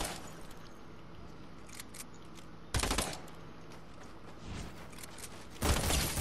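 A burst SMG fires in short, loud, rapid bursts in a shooter video game, two sharp volleys a few seconds apart over quiet game ambience.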